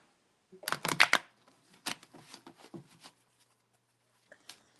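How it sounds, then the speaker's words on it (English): Tarot cards are shuffled by hand close by, with a quick burst of crisp riffling flicks, then softer scattered taps and slides of the cards, with short silences between them. "I love the sound of shuffling cards."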